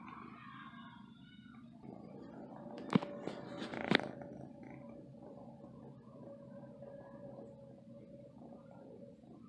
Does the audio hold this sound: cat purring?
yes